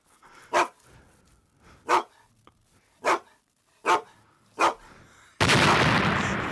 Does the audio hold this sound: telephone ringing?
no